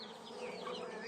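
Honey bees in an open hive buzz in a steady, close drone, a soft continuous hum with no voices.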